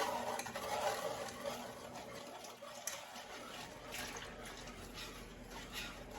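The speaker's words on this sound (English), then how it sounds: "1 1/2 cups of water and 1 1/2 cups of heavy whipping cream. We're just going to pour that in." Water and heavy whipping cream poured into a pan for keto chocolate gravy, a faint, steady liquid splash and pour with soft stirring texture, low and continuous with no talking.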